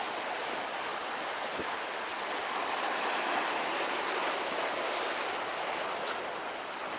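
Waves wash onto a sandy beach in a continuous broad roar of surf, steady and fairly close, with a soft swell in the middle and no voices.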